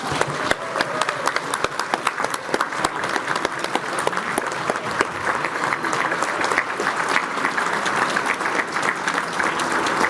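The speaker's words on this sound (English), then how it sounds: "we would certainly appreciate it if you got a little bit of a round of applause for that" A convention audience of union delegates applauds steadily, dense clapping from many hands filling the hall at a constant level throughout, with no voices rising above it.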